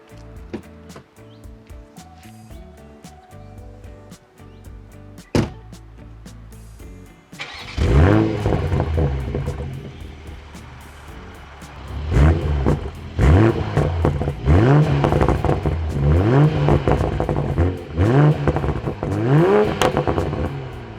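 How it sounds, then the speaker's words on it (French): After a quiet ticking stretch, a BMW Z4 M40i engine with an Akrapovic exhaust barks to life and revs repeatedly, loud rising blips of exhaust roaring close by. "On va se refaire un petit plaisir avec le son de l'échappement à Krapovic"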